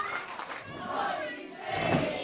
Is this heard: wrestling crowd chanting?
yes